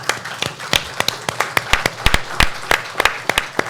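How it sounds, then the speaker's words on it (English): A small conference audience claps for Liz and her team at a cyber-risk and insurance event: sparse, irregular individual claps, fairly close and moderately loud, with no talk over them. "Can we have a round of applause for Liz and her team?"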